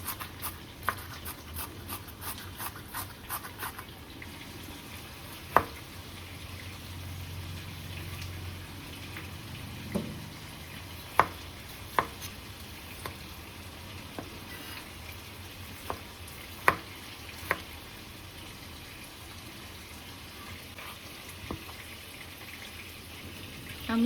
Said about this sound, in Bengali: আমার একদিকে মাছ ভাজা হচ্ছে